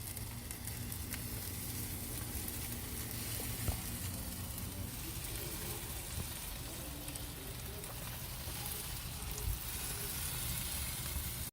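Barbecue chicken cooking on one side over a grill gives off a soft, continuous sizzle and crackle, fairly faint and steady throughout, with no voices.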